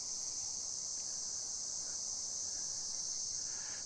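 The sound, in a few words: cicadas chirping in summer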